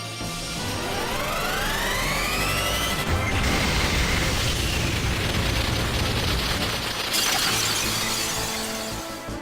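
Shiva's ice summon striking a Bomb enemy in Final Fantasy VIII, with rising shimmering tones, then a loud shattering crash and dense icy rumble that fill the whole stretch without talk.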